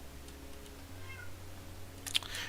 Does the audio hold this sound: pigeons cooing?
no